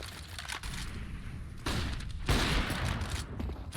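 Gunfire from a sniper rifle in Counter-Strike: Global Offensive, fired through smoke during a tournament match: a few loud, sharp broadband shot bursts over steady game background noise, with no voices.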